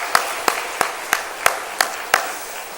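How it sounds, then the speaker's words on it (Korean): Seven sharp, evenly spaced claps ring out in a steady rhythm, close by and fairly loud, with no talking, during a Sunday morning church service. "우리 이분들 박수로 한번 격려해 주시면 고맙겠습니다."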